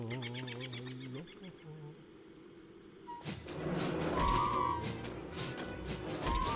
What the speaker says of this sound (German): Ich glaube, die Bienen kommen nämlich ewig hinterher.